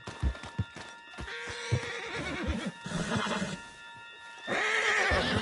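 A horse in the video game Red Dead Redemption 2 whinnies loudly amid thudding hooves and game sound effects, with a second louder neigh near the end.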